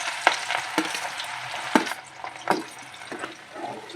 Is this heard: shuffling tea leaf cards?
no